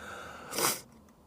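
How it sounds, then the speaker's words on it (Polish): One quick, breathy allergy sniff up the nose, close and fairly soft, against a quiet background hum. "Wybaczcie to pociąganie nosem. Dzisiaj mnie alergia dopadła."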